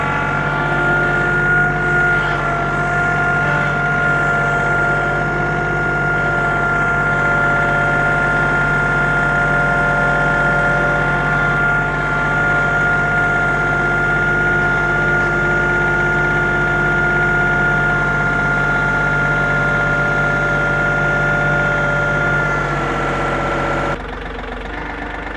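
A tractor engine idles steadily and loudly at close range with a constant low, knocking drone, cutting off near the end.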